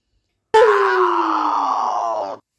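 A wolf's long, drawn-out pained scream after landing in boiling water, loud and close, starting abruptly and fading slowly downward over about two seconds.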